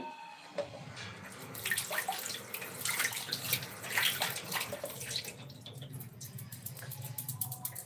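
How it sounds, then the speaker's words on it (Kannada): Running tap water splashes steadily over a muskmelon being washed by hand, a continuous close hiss of flowing water with small splashes and drips throughout. "ಇವಾಗ ಇದನ್ನು ಸ್ವಲ್ಪ ವಾಶ್ ಮಾಡ್ಕೋತೀನಿ"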